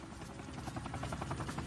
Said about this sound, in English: A second helicopter, Black Hawk Super 6-4, piloted by Mike Durant, is hit.